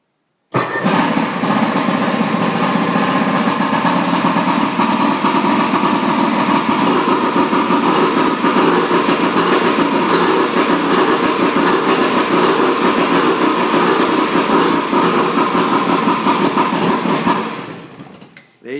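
A 1955 Evinrude outboard engine starts after three months idle and runs at a steady, loud, buzzing drone before sputtering out at the end.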